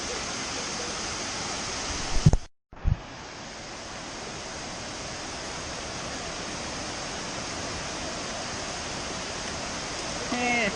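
A waterfall in the Appalachian Mountains of North Carolina roars as a loud, steady broadband rush, nearby and continuous, broken by a brief cut and a couple of knocks early on.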